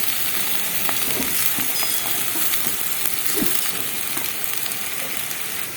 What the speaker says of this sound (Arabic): وبعد كده هنزل عليها بالرز، ونزلت عليها بالرز زي ما حضرتك شايفه